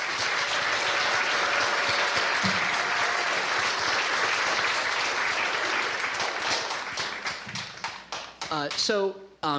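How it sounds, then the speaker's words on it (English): An audience at the Walsh Jesuit High School fall concert applauds its students: loud, dense, sustained clapping that thins and breaks up near the end before a voice begins speaking. "let's just give a huge round of applause to all of these amazing students"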